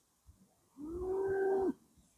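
A single long, low moo from a cow on Cannock Chase in winter, steady and fairly close, lasting about a second with faint background noise before it.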